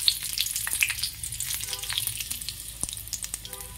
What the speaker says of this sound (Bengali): প্রথমে শুকনো লঙ্কা, জিরে দিয়ে, তেজপাতা দিয়ে তারপরে ছাড়বো।